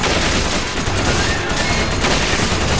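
Dense, continuous gunfire aimed at a giant worm boss in Resident Evil 5 on PS4, a loud sustained roar of overlapping shots and booms with no break, filling the whole stretch.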